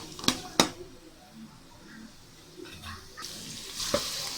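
Curry leaves frying in oil for a Tamil-style prawn curry, a faint sizzle with a few sharp scrapes and clinks of stirring, a quiet voice occasionally heard.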